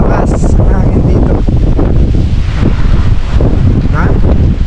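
Strong wind buffets the microphone at a seaside campsite at 18° North in Bangui, Ilocos Norte, a steady loud roar throughout with no clear speech.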